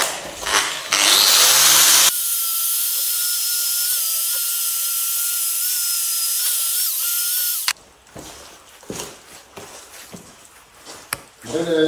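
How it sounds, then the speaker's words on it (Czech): An angle grinder fitted with a small polishing disc runs steadily at a high whine for several seconds during work on a welded BMW E36 differential in a garage, then cuts off, followed by clatter and people talking. "Vezmeme flexu. Mají takový leštící kotouček."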